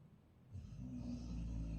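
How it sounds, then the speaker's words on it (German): A dog snoring faintly nearby, one low rumbling breath that swells after a quiet start in an otherwise still room. "Oh, mein Hund schnarchelt wieder."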